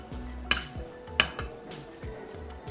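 Cooked radish being stirred and tossed with tempering seasoning in a pan, a utensil clinking against the metal in a few sharp scrapes and taps spaced about half a second apart, close and moderately loud.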